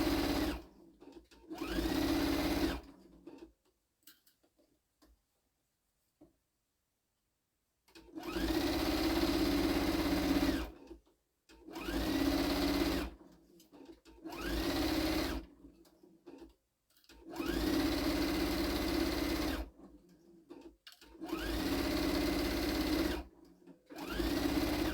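Sewing machine with an 80/12 needle stitching a scallop pillowcase, running in steady whirring bursts of several seconds separated by pauses, close and clear with no talking.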